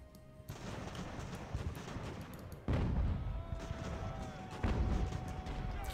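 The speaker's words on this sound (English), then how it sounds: "Oh, those are mortars." Mortar fire in the Ultimate Admiral: Age of Sail game comes as several heavy booms over distant rumbling battle noise, with two sharp, loud impacts standing out.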